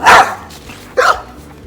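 A dog barks twice, loud and close, outdoors while hitchhiking in Bimini, with two sharp separate barks about a second apart and no speech.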